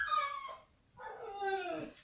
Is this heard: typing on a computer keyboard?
no